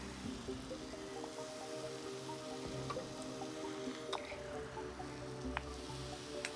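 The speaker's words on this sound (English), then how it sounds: "You see how it starts bubbling up?" Baking soda and vinegar fizz and bubble quietly, with a soft continuous hiss dotted by tiny pops and drips, close up and faint.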